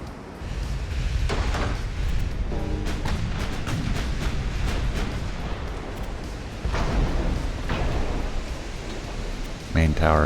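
Dreadnought-era warships in the naval battle game Ultimate Admiral: Dreadnoughts fire their guns in a dense, rumbling barrage of booms and spitting cracks, loud and continuous with splashes of noise throughout.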